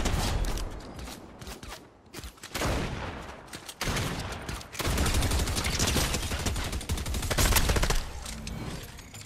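Rapid gunfire bursts and thumping launcher shots in Fortnite, dense crackling volleys from a pumpkin launcher and guns, loud and close, broken by brief pauses.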